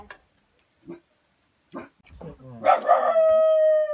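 A dog gives a few short barks, then breaks into a long, loud, sustained howl with a steady tone that carries to the end. A voice sounds near the start.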